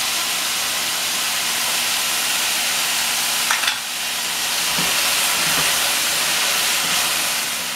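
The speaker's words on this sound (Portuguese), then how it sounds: "Já fritamos a cebola e o alho." Chopped onion and garlic fry in a single pan, giving a steady close sizzle and hiss with a few soft stirring clinks and scrapes partway through.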